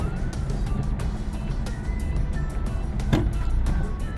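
A 2001 Nissan Altima engine with a faulty mass air flow sensor runs with a rough, uneven idle, stumbling and hesitating as it's revved, with rattling mechanical noise close by.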